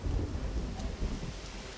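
Thunder rumbles heavily beneath steady, hissing rain in the video game Blues and Bullets, a dense, continuous storm with no voices.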